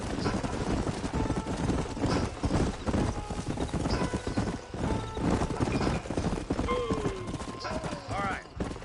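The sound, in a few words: horses trotting in a video game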